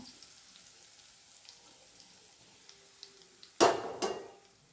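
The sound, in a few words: frying ground spice powder in oil for coriander thokku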